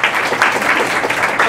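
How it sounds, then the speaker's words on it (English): A room full of people gives a steady round of applause, dense and fairly loud throughout this short burst. "So we get a round of applause."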